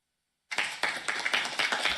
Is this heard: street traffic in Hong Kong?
no